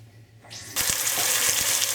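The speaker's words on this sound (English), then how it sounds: "Now you can hear it sizzling, and what I'm doing is I'm just browning, literally just browning the beef." Beef hits a hot pressure cooker pot and erupts into a loud, steady sizzle as it browns, with a few soft knocks as it's moved around.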